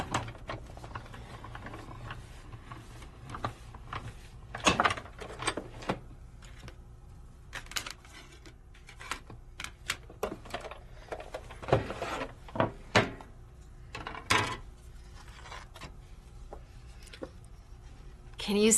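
A Sizzix die-cutting machine cranks a 3D embossing folder with a teal or clear cutting pad through its rollers, giving irregular close clicks, clunks and ratcheting knocks under quiet stretches where someone speaks softly.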